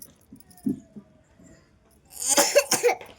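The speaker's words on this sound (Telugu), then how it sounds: "నువ్వు దగ్గొద్దు, దీనిలో జరుగు" A child gives a short cluster of coughs near the end, close and fairly loud, following a quiet stretch with faint rustles.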